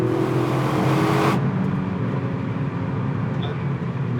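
A Toyota GR car accelerates hard on a racing circuit, a loud continuous engine roar heard from inside the cabin, with a brief burst of extra high-pitched noise at the start before it settles into a steady drone.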